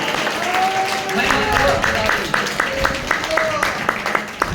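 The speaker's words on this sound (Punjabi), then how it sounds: "ਜ਼ੋਰਦਾਰ ਤਾੜੀਆਂ ਨਾਲ" An audience at a church prayer gathering bursts into applause, the loud clapping running under voices that speak throughout.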